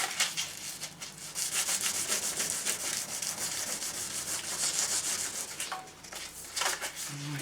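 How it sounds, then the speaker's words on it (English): A Triumph motorcycle heat shield is scrubbed by hand with sandpaper in a garage, giving a close, raspy rhythmic rubbing of quick back-and-forth strokes with brief pauses. "Now that one just doesn't like the sandpaper at all."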